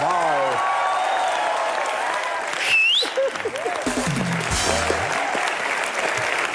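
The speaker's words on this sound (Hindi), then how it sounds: "जोरदार तालियां एक बार यार" Studio audience at a comedy talk show in Mumbai bursts into loud, sustained clapping that carries on throughout, with voices and cheering mixed in.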